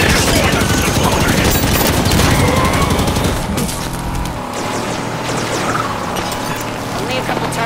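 Dense, continuous gunfire from soldiers in Halo 5 Warzone on an industrial map, rapid bursts of shots and crashes loud and close throughout, easing slightly toward the end with some talk.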